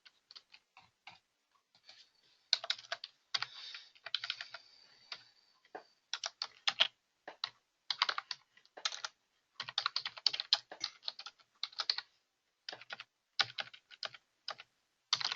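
Rapid bursts of typing on a computer keyboard while code is written for an Oracle PL/SQL stored program, irregular clusters of close, crisp key clicks with short pauses between runs, no talking.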